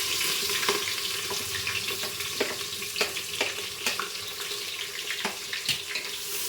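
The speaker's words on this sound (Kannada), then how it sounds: "ಈರುಳ್ಳಿ ಹಾಕ್ತಾ ಇದೀವಿ" Onions frying in a pan with cardamom and cinnamon for pulao, a continuous hissing sizzle with small crackles and occasional stirring clinks, close up and moderately quiet with no talking.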